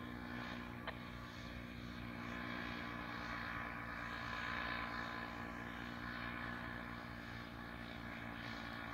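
Paramotor engine droning steadily in flight, a constant propeller hum that stays even and moderately loud throughout with no pauses.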